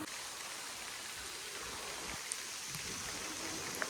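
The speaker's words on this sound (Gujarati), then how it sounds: "વરસાદ ચાલુ થઈ ગયો છે અત્યારે અને વરસાદમાં તો નાહવાનું છે." Rain falls outdoors as a soft, even wash of broadband hiss, faint and steady throughout, with a few light drips and no voices.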